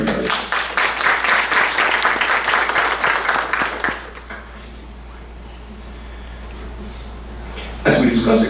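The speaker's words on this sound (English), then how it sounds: "So a round of applause for everybody." An audience at a college town hall in an indoor room gives dense clapping for about four seconds, then it drops away to a quiet room, and a fresh burst of claps starts near the end.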